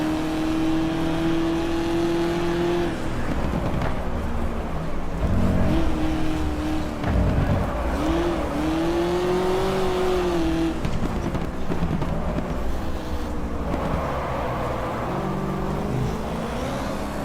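A race car engine in GT Legends holds second gear, droning loud and steady with rising and falling revs, brief shifts of pitch and some tire noise throughout.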